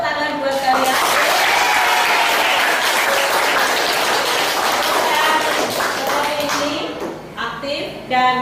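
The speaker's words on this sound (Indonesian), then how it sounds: "Tepuk tangan buat kalian." Students in a classroom lesson applaud, with loud, close, sustained clapping for about seven seconds and voices mixed in before it tapers into scattered claps.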